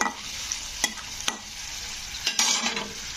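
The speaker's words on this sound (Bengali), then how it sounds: "তো শুকনো লঙ্কাগুলোকে একটু ভেজে নিতে হবে।" Dried red chillies frying in a pan for semiya upma, with a steady close sizzle broken by several sharp spatula scrapes as they are stirred; no one speaks.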